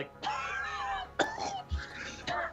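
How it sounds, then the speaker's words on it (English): A tabletop role-playing game player fakes a coughing fit with the voice, several rough throaty coughs and a groan spread over a couple of seconds, close to the mic. "cough up a little blood"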